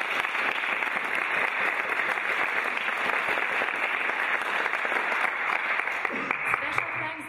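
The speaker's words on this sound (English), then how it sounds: "a big applause for them" Steady applause from a crowd, dense clapping sustained throughout at an even level, tapering slightly at the very end.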